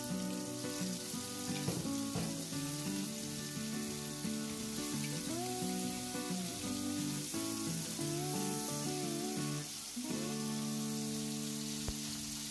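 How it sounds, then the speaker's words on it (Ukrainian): Eggplant fries in vegetable oil in a pan over low heat, a soft, continuous sizzle that sits quietly beneath louder background music. "Будемо смажити баклажани на рослинній олії."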